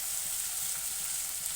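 Ginger garlic paste sizzles steadily in a hot pan of oil for rajma curry, a continuous close hiss of frying with no speech over it.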